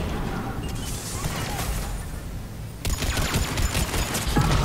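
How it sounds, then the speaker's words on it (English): Sustained gunfire crackles throughout a firefight in the video game Mass Effect 3, with a sudden rocket blast near the middle and voices talking over the combat. "Oh, that's a rocket."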